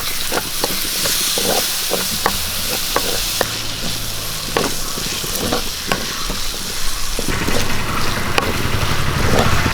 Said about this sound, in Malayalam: നമുക്ക് അരിഞ്ഞു വെച്ച തക്കാളി കൂടി ഇട്ട് കൊടുക്കും